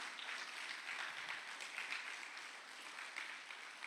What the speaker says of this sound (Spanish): Dele por favor otro aplauso a Dios